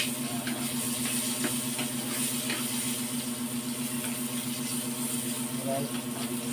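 Chopped onions hit hot oil, already fragrant with ginger, in a pan of escabeche, giving a steady, soft sizzling hiss with a faint hum beneath it and no talk.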